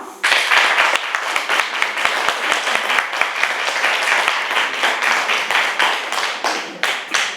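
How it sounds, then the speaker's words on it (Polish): A concert hall audience at a young talents show in Czarne applauds its instructors with loud, dense, continuous clapping. Sharp individual claps stand out throughout before the sound tapers slightly at the end. "Proszę tutaj o brawa."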